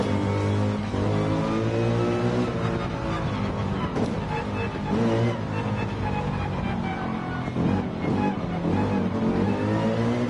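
A front-engine, rear-wheel-drive Mercedes-AMG race car in Gran Turismo 7 revs hard and continuously, its engine note rising and falling through gear changes with occasional tire squeal and no speech.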